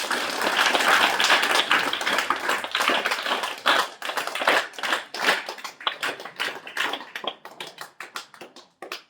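An audience at a political party's birthday celebration applauds to welcome a guest, dense, steady clapping that gradually thins into scattered, sharper individual claps before fading out.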